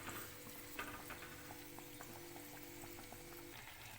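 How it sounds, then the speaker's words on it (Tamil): Potato bread bajji frying in hot oil in a pan, a quiet, steady sizzle with faint bubbling and a few soft clicks, no talking. "இப்போ இதை போல் ஃப்ரை பண்ணிக்கோங்க"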